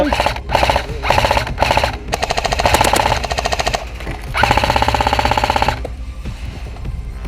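An airsoft MG42 machine gun with a timber and metal build fires during a building assault: loud, close rapid bursts of rattling automatic fire separated by short pauses.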